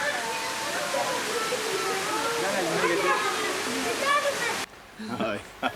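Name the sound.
waterfall in a valley on Mount Olympus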